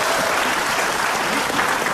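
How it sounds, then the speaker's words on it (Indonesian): Loud, dense applause from a television talk-show studio audience, close and continuous for a couple of seconds with no speech on top. "Tepuk tangan dong."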